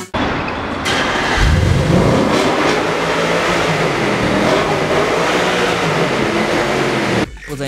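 An Audi RS 5 Cabriolet's engine revs loud and close, a sustained throaty roar that rises and holds for several seconds before cutting off abruptly.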